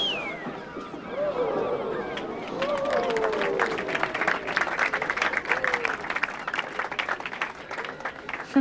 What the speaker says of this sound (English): People always cheer when they turn the lights on in the evening, every time.